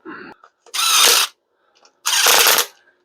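Power tool whirring in two bursts of about half a second each while driving small block Chevy cylinder head bolts, loud and close, with short mechanical clicks between.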